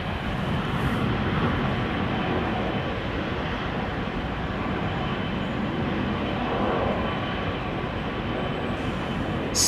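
A 17-year-old Boeing 777 airliner at London Heathrow Airport, a steady, broad engine roar sustained from a distance, constant and unbroken, with no talk.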